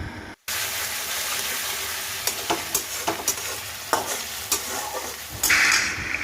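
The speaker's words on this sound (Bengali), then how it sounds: "এবার ওই তেলেই দিয়ে দিলাম একটা পেঁয়াজ বাটা।" Onion paste sizzles in the oil left from frying fish in a wok, a continuous close crackle punctuated by regular scraping stir strokes and a louder spatter near the end, with no talking.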